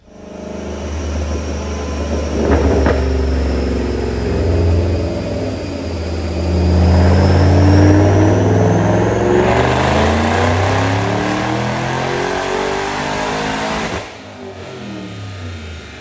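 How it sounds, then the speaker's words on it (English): Supercharged 2012 Ford GT500 with a VMP Gen3R blower roaring through a dyno pull, a loud sustained engine note climbing in pitch as revs rise, with supercharger whine overhead, then dropping off sharply near the end. "But right now, check out this dyno pull."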